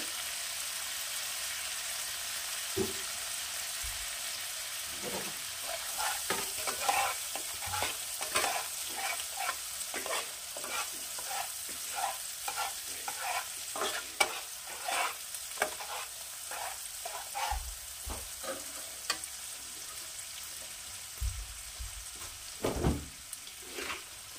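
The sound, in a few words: spices (masala) with whisked yogurt being sautéed on low flame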